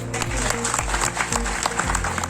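Villagers applauding at an outdoor public hearing held by a chief minister in Haryana, sustained crowd clapping heard faintly under a narrator's voice and low background hum.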